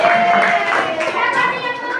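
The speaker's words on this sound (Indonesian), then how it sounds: "Silakan tepuk tangan. Tepuk tangan dulu." Students clap their hands in a classroom during a lesson, a dense patter of applause spread over two seconds with young voices chattering underneath.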